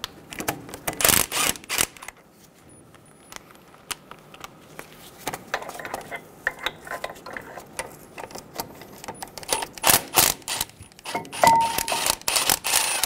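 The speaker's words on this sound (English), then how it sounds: "Remove the caliper bolts." Brake caliper bolts being removed from a 2005-2015 Toyota Tacoma front brake, heard as close, sharp mechanical clicks and ratcheting bursts in irregular clusters, with quieter gaps between them and no talking.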